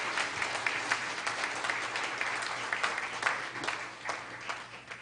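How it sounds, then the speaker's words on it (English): Audience applause rolls on steadily at a live university event, a dense wash of many hands clapping heard at moderate distance throughout. "A big round of applause and a most appreciated thank you."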